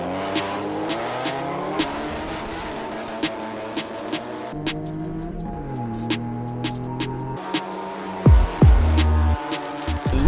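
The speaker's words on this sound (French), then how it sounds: "le son de l'échappement, vous le verrez au départ" A race car engine at a King of Essence event roars loud and close from the start, its exhaust note climbing and dropping through the gears as it accelerates, with a brief tire squeal near the end.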